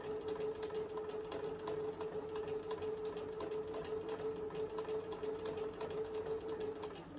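A domestic sewing machine set to a 2.5 stitch length stitches a ruffle, running with a fast, even mechanical whir and a steady hum. It is close and continuous, then slows slightly at the very end.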